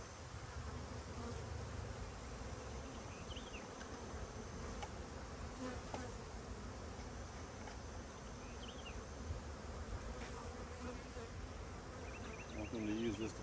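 Honeybees buzz at a beehive during jar feeding in an apiary, a dense, steady drone of many insects with individual bees flying close by now and then, fairly quiet and unbroken throughout.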